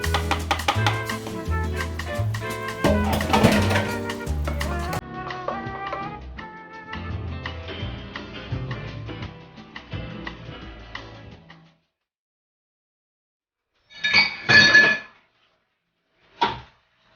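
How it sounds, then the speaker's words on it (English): Coconut milk sloshes into an emptied condensed milk can while Caribbean fruit and nut fudge is made, with metallic clinks and splashing up close, followed by quiet and two short bursts of can and pot handling. "I'm going to take the condensed milk can and I'm going to throw the coconut milk in there"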